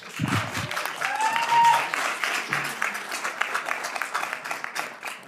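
A political audience cheers and applauds after a speech by Rand Paul, a dense steady wash of clapping and shouts filling the room for several seconds, loud and continuous with a rising whoop.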